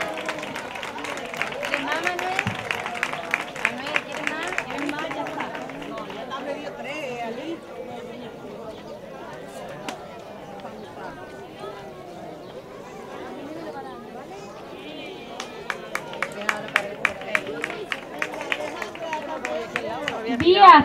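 At an end-of-year school ceremony, scattered bursts of clapping rise and fade as names are called, quick uneven claps over constant crowd chatter, with a quieter stretch of murmuring between the bursts.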